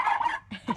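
Turkeys gobble inside a grow-out coop, giving a quick burst of warbling gobbles followed by a couple of shorter calls, close and fairly loud.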